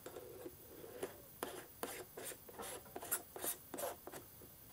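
52 mm UV protector filter threaded onto a camera lens, a quiet close series of short scraping rasps in an irregular rhythm, each twist brief and dry.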